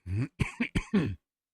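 A burst of throaty coughing and throat clearing, several rough bursts in quick succession, close to the microphone, then silence.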